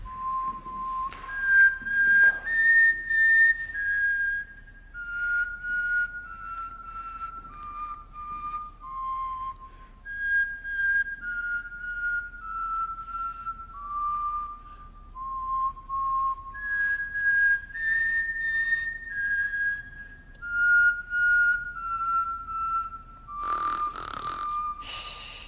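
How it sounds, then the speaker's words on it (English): Two young women attempt to whistle a simple tune, producing a steady run of thin, wavering whistled notes that rise and fall in short phrases, close and fairly loud, with breathy gaps and a rough burst near the end. "These girls cannot actually whistle."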